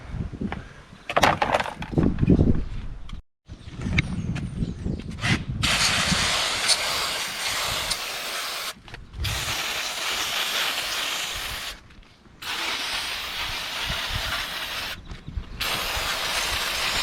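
A pressure spray blasts water across a Holden Rodeo engine bay to rinse off degreaser, a steady broadband hiss broken by brief pauses as the trigger is released, with splashing at the start.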